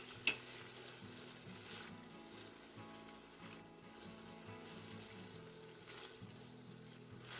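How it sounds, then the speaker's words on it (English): Sliced onions being tossed in hot oil in a pot, a soft continuous sizzle with occasional stirring scrapes, close by and without voices. "We'll toss the onions in the oil until all the pieces are coated."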